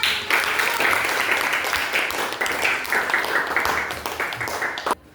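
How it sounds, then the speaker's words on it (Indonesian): Children in a classroom clap together in a dense, lively round of applause lasting about five seconds before it cuts off abruptly. "Beri tepuk tangannya."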